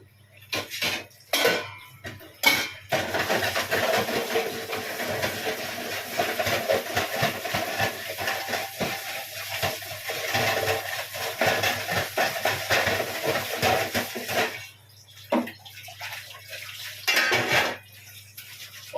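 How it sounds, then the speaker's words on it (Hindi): An iron griddle is scrubbed with a raw brick in steady, gritty rubbing strokes, broken by metal utensils clanking and scraping, with short pauses between bursts and no speech. "तवे के लिए अपना यंत्र सबसे अच्छा कच्ची ईंट से रगड़"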